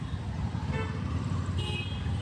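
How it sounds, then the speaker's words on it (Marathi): Road traffic hums along a busy route toward Andheri, with a couple of short car horn toots rising over the steady low engine rumble. "ट्रॅफिक"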